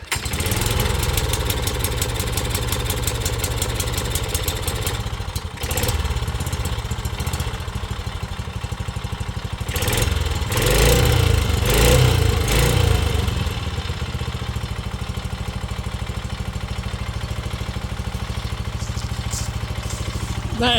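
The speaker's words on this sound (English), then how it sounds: "That engine starts up no problem." A 7 hp small engine fitted to a Case 700 series tractor runs steadily with a rough, loud idle, briefly revving louder midway before settling back to a constant chug.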